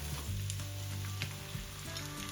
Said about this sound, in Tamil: 3 பெரிய வெங்காயம் நான் வெட்டி வச்சிருக்கேன். இதை இதுக்குள்ள போட்டு நல்லா வதங்க விட போறேன்.